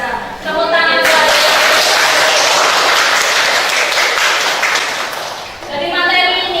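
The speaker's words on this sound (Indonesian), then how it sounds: "Tepuk tangan buat" Students in a classroom at a vocational school break into loud, dense applause that swells after a brief spoken lead-in and holds for several seconds before tapering as a voice returns.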